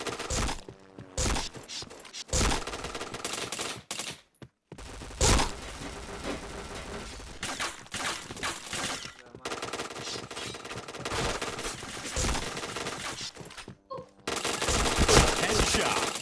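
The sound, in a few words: gunfire in a shooting video game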